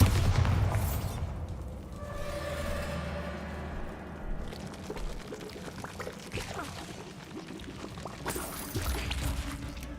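A Bombarda spell explosion in the video game Hogwarts Legacy lands as a deep, rumbling boom at the start, then fades into a rushing, watery wash of debris and ambience.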